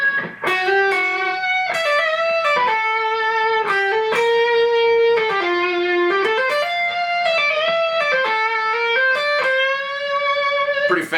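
Distorted electric guitar plays busy legato runs in a progressive metal passage, flowing continuous phrases of smoothly connected notes that rise and fall, loud and alone.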